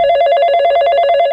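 A telephone rings for an outgoing call, a loud, steady electronic ringing tone with rapid regular pulsing that continues unbroken and alone.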